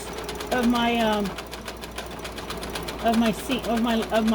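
A sewing machine stitches a zigzag along a fabric face mask tube in two clear running bursts, its whirring hum rising and falling with the speed; a person talks over the stitching.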